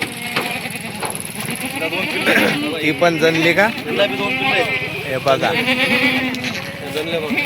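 Kathiawadi goats, including recently kidded nannies, bleat repeatedly in loud, wavering cries close by while someone talks over them throughout.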